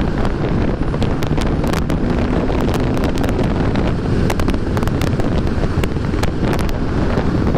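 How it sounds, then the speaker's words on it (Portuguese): Steady, loud wind buffeting across a microphone while a 2020 Triumph Rocket 3 R 2500cc motorcycle, brand new, cruises on a highway, a dense continuous roar with gusty bursts throughout and no voices. "Mas aqui o vento é na cara."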